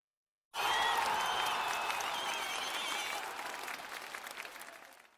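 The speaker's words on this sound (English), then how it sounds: "Give yourselves a round of applause." Studio audience applause rising sharply from silence, a dense crowd of clapping hands with faint whoops, holding steady before thinning and fading out over several seconds.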